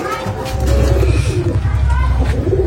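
Desi pigeons, an old breeding pair about 14 years old, coo in a steady, pulsing low rhythm close by, with a little background babble.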